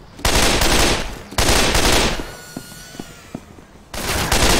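Gunfire in the video game Left 4 Dead 2: loud sustained bursts of automatic fire, a pause filled with fading echoes and a few scattered pops, then another burst starting at the end, no talking.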